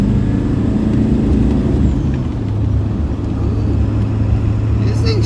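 An OBS Ford truck rolling down the road on a stock tune, a steady low engine drone and road rumble heard from inside the cab, with someone talking over it.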